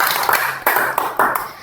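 Applause for a group presentation in a primary-school classroom: a brief burst of clapping from several students, with a few sharper claps standing out, over roughly a second and a half.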